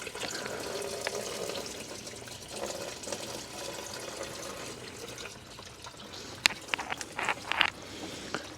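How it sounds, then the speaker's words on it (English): Coolant spilling from a hose pulled off a 1990 Mercedes 560SEC AMG engine, a faint continuous trickle and splash of liquid with a few sharper drips and clinks near the end, quiet and close. "God, I love coolant spills."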